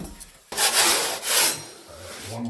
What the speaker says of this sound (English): We're just gonna go around and we're gonna scrape this stuff off.